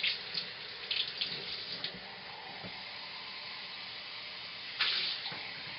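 Tap water runs into a container while a soup is being made: a steady trickling stream with a few louder splashing bursts at the start and again near the end, fairly quiet overall.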